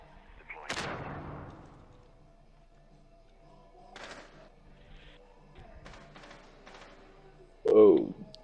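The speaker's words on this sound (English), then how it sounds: "Whoa, shots fired from the east." Distant gunfire in Rainbow Six Siege, a few muffled reports and thuds spread apart at moderate volume, with a louder burst at the end and quiet game ambience between them.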